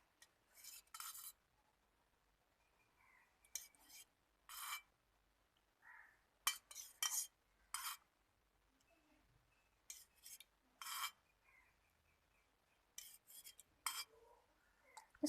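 A spoon mixes rice powder with water in a small bowl, producing scattered bursts of bright clinking and scraping against the bowl, separated by quiet pauses, close and fairly soft.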